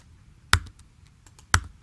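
Two sharp, close keyboard strikes about a second apart, with a few faint key taps between them, made while entering values on a computer.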